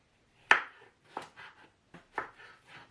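A knife chops food on a cutting board during Ramadan sweets preparation: three to four crisp, distinct strokes spaced about half a second apart, each followed by a softer scrape, close and clear with no talking.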